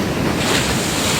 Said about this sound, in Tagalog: Ito ang kalagayan ng ating dagat ngayon.